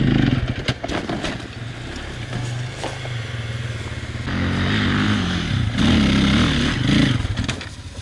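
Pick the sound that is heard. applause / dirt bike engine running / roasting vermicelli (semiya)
dirt bike engine running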